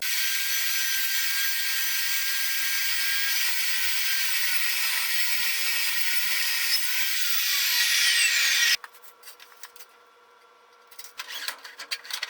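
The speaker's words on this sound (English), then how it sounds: "So now we've got our saw set this way so we can make a miter in this direction" A saw making a miter cut through metal angle: a loud, sustained high-pitched grinding whine runs steadily for about nine seconds, then cuts off abruptly, leaving quieter shop clatter and rustling.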